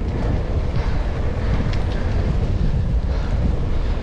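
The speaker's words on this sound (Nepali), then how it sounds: "कस्तो हावा चलेको" Strong wind buffets a microphone along a park path, a steady loud rumbling roar with no pauses and no voices.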